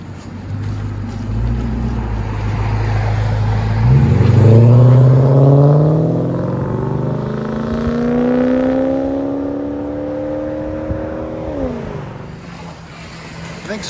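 Lexus SC 400 with its 4.0L V8 and modified exhaust, heard from the side as it idles low, then revs up sharply, holds a rising throaty drone, and drops back; loud and close.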